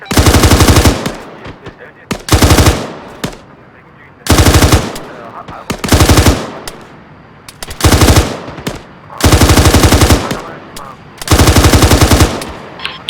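Machine-gun fire in the ARMA 3 military game, loud, close bursts of rapid automatic shots repeated about eight times with short pauses between, the bursts lasting around a second each.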